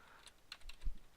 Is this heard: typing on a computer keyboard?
yes